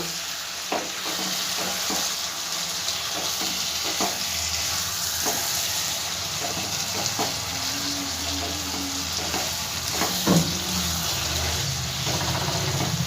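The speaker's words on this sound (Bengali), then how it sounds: "ভালো করে ডিমের সঙ্গে মশলাটা কষিয়ে নেব।" Eggs sautéed with spice masala in a pan, a loud steady sizzle with occasional soft scraping strokes and light taps from stirring, close and continuous, no voices.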